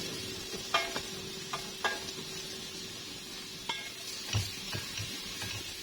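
A spoon stirs rice with a little broth in a pot over a soft, steady sizzle. Scrapes and taps against the pot come at irregular intervals, close up, with no voices.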